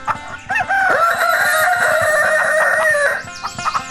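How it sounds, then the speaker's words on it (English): A rooster crows in one long, loud call that holds steady for about two seconds, with a few shorter fowl clucks before and after it and no talking. "The rooster crowed."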